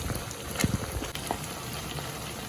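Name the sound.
water poured into pan of frying tandoori chicken wings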